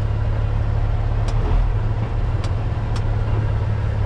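A big truck manoeuvring at a loading area, heard from the cab as a steady low engine drone with a couple of faint sharp clicks or squeaks, no speech.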